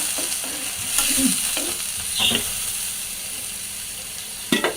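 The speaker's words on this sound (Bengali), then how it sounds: "অল্প একটু পানি দিয়ে দিচ্ছি এখন এগুলাকে আমি মানে কিছুক্ষণের জন্য হচ্ছে কষাতে দিব" Fish with potato and long beans sizzles in a pan just after a little water is added, a steady close hiss with intermittent stirring clinks and bubbling, and no talk.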